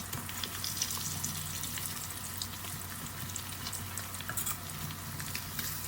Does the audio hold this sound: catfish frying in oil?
yes